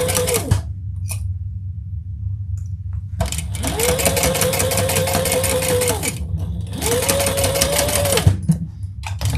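Close, loud sewing machine stitching leather with same-color thread in several runs of a few seconds each, the motor whirring and rising in pitch as each burst speeds up, separated by short stops.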